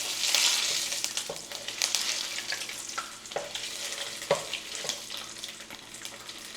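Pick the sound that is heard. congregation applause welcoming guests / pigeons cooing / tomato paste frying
tomato paste frying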